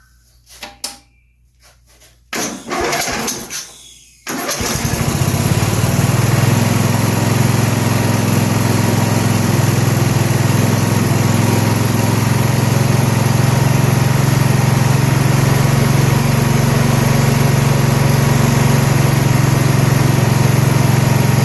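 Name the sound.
27-year-old Junk Yard Dog riding mower engine running, backfiring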